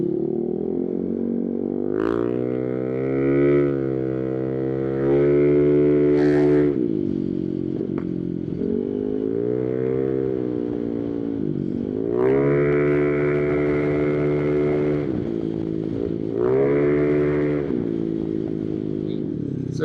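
A loud, custom-built Italjet Dragster 300 motor scooter revs hard close by, its engine note climbing and falling in repeated bursts with sustained high-pitched whine between throttle blips, no talking over it.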